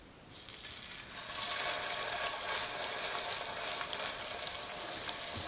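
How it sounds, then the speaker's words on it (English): Persian kotlet meat patties frying in hot oil, a steady broad crackling sizzle that swells after the first second and continues loudly and evenly without talk. "I'm putting them in the hot oil"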